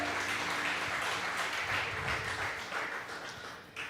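A church congregation applauds together, a dense, steady wash of clapping that stays full for a few seconds before slowly thinning out.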